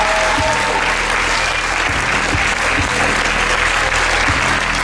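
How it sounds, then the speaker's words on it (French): Loud, sustained clapping from a festival crowd cheering an improv team after a match, a dense wall of applause with a few sharper thumps, continuous and close. "on peut les applaudir très très fort."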